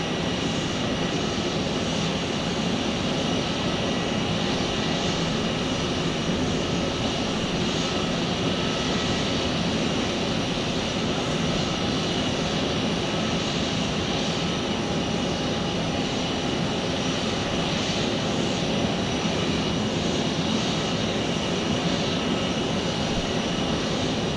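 A plane's aircraft engine roars steadily and loudly at Tucson airport, a continuous broadband drone that holds without letup for the full length, with no voices over it.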